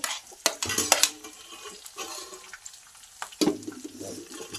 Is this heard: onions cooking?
yes